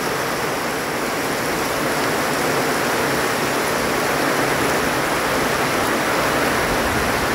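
Steady rushing of flowing water, a dense continuous hiss like a stream or small waterfall, close and unbroken.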